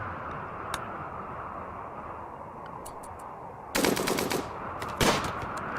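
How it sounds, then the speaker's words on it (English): Two short bursts of rapid machine gun fire in RimWorld, loud and close, breaking through a steady background hum. "Ooh, gunfire."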